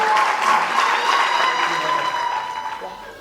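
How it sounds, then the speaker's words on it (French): A church congregation claps and cheers for the Lord at a French-language worship service, a dense, steady burst of applause with excited voices mixed in that carries on for about three seconds and tapers slightly at the end. "Acclamez très fort le Seigneur. Acclamez encore le Seigneur."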